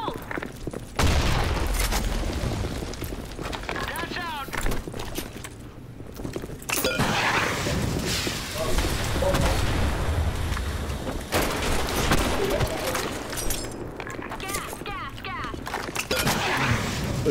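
Video game combat with a grenade blast and bursts of gunfire, heavy booms and rapid shots over a dense, noisy battle background, while a player talks over the action.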